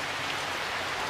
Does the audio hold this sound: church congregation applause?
no